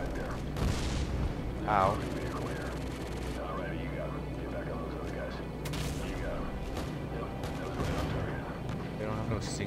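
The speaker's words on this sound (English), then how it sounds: "I'm already being shot at." Gunfire and explosive booms crackle through a Modern Warfare 2 special ops mission, with scattered shots and heavy thuds over a busy game soundscape, and a player briefly speaks.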